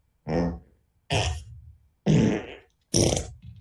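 Four separate fart sound effects from the Laughfinder video game, each loud, close and different in tone, spaced about a second apart with brief silences between, no speech.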